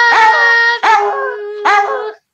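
A dog howling nearby, three loud, sustained wavering howls in quick succession, each one long and tonal, heard on their own with no talk.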